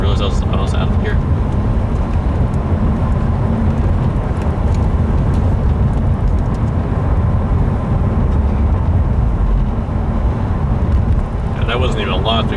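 2015 Subaru WRX with a Maperformance stage 1 tune on 93 octane, driven hard in the rain, a loud, continuous engine and road roar close up throughout, with tire and wet-road noise mixed in.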